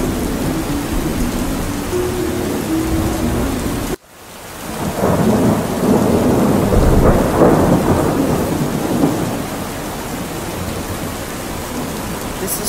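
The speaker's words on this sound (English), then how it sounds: "The storm is getting worse." A thunderstorm with rain in the Roblox game Airplane 3 brings steady rainfall, then a sudden sharp break followed by a deep rolling thunder rumble that swells and fades back into the rain.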